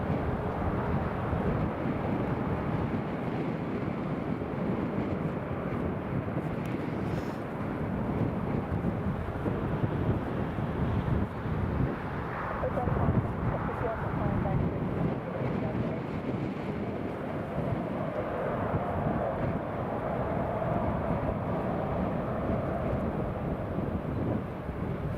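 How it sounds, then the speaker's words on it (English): A Jet2 airliner taxis toward the runway at Newcastle Airport, a steady distant engine drone mixed with gusty wind rumble across the whole stretch. "Jet 2 is taxiing to the runway."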